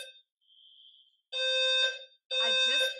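An apartment fire alarm sounds in loud, harmonic electronic beeps. A long tone is followed by two more blasts, with talk audible in the brief gaps.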